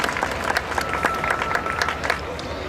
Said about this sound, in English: A big round of applause to them, please.